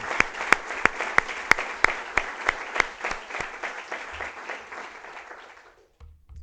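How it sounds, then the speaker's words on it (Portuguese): Applause for volunteers at a closing session of a prison-themed conference: a moderate, fairly sparse crowd clapping with distinct sharp individual claps standing out near the front, tapering off and dying away toward the end. "acho que é preciso uma salva de palmas para esses voluntários."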